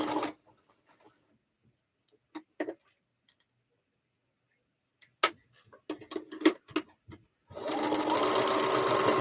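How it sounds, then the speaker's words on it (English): A sewing machine stitches a quilt block with a 1/4 inch seam in a few short bursts with quiet gaps between them, then runs in a steady continuous whir at the end. "Is my sewing machine too loud?"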